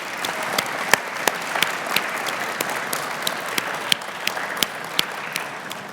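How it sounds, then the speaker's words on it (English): Dense applause from a conference audience at an awards ceremony, many hands clapping steadily with sharp individual claps standing out, sustained throughout. "let's give a big round of applause"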